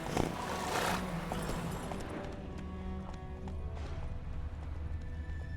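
Hooves of Roach, a horse in a video game, clip-clop at a gallop alongside a brief whinny and scattered game effects, moderately loud and fading toward the end.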